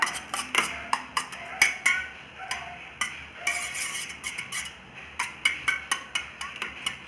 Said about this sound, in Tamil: இந்த முட்டையை நல்லா கலக்கிக்கணும்.